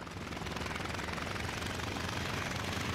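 A WWII aircraft engine drones loudly and continuously in the flight-combat game IL-2 Sturmovik, a steady rough roar with a fast rattling pulse and no talk over it.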